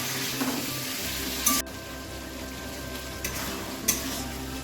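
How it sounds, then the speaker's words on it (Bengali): Cauliflower cooking in a kadai gives a steady, close sizzle and frying hiss, with a few short metallic clinks and stirring scrapes of utensils against the pan. No one talks. "এদিকে আর একটা কড়াইতে ফুলকপিটা চাপিয়ে দিলাম।"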